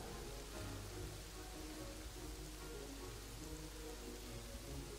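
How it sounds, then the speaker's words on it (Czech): Soft, steady rainfall in the game Kingdoms and Castles patters continuously at low volume, with a faint low hum underneath and no voices. "To je docela dlouhý déšť,"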